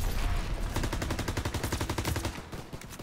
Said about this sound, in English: What's the guy firing at?